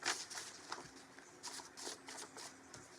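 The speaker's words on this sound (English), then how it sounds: "I'm gonna shuffle 2 more times." Playing cards being shuffled during a live tarot or spiritual reading stream, a few quick riffling bursts of soft papery flutter with brief pauses between them, close and fairly quiet, with no talk.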